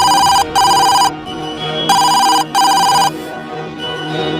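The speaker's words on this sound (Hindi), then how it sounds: "तभी इनका टेलीफोन बजने लगता है" A telephone bell rings loud and close in two bursts of double rings, each ring a bright electronic trill separated by a short gap, with a quieter electronic hum between the bursts.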